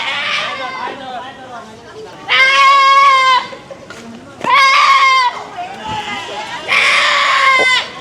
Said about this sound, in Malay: Kambing terlepas guys.